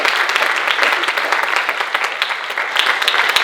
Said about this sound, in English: Can we give them applause, please?